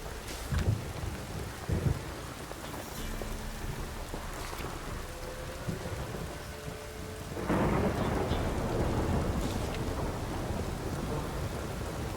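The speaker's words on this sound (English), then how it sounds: "This downpour's a bastard" Heavy rain and thunder in a video game: rain pours steadily while deep thunder rumbles and cracks, growing into a heavier downpour partway through.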